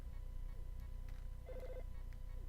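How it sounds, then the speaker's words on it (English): A telephone ringing in Earthbound, a short electronic trilling ring rising briefly above a steady looping game soundtrack. "Oh, the phone be ringing."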